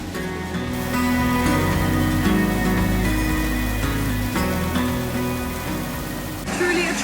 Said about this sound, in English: Truly a tropical thunderstorm.